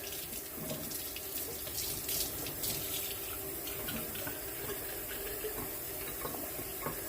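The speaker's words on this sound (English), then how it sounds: "you want to make sure that you rinse all that out" Tap water runs steadily into a plant container to rinse out fallen dead leaves and debris, a continuous close splashing stream with no talk over it.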